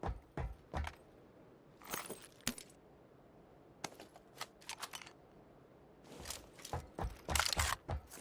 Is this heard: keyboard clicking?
yes